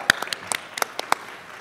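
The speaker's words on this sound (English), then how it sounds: "Let's give a big round of applause for Les Anges." A few scattered handclaps from an audience at an indoor beauty awards ceremony, sharp and separate rather than a full ovation, lasting under two seconds.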